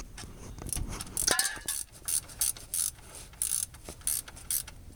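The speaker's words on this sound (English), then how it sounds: "Ratchet wrench, 12 mil." A ratchet wrench with a 12 mm socket turns a bolt while a short shifter is fitted to a Honda Civic, giving a run of close, crisp ratcheting clicks in short bursts at a fairly even rhythm.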